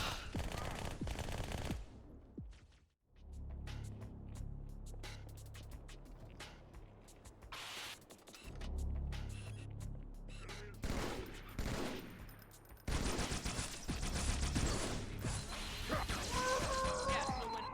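Gunfire in Halo 2: repeated bursts of automatic weapon fire and loud impacts across the clip, close and intense, broken by a brief quiet gap, with game effects and a player speaking amid the shooting.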